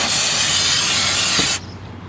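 Aerosol brake cleaner blasts in one continuous, loud, close hiss onto rear disc brake parts of a Chevy Equinox, lasting about a second and a half before cutting off abruptly.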